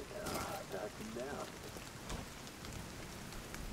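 Steady rain falling on surfaces in the video game The Division 2, a soft continuous hiss of drops under faint, quiet game sounds and a voice.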